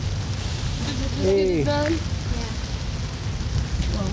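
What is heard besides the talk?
rain outdoors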